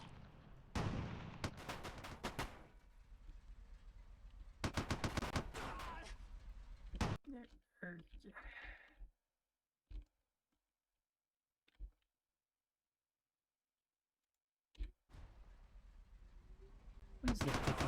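Machine gun bursts in the wartime strategy game Theatre of War, French campaign: loud clustered volleys of rapid shots in several runs, broken by a near-silent stretch with a few isolated cracks, then firing resumes.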